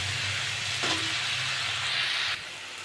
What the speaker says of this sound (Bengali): আমি এবার আলুগুলো দিয়ে দেবো, দিয়ে ভালো করে কষে নেবো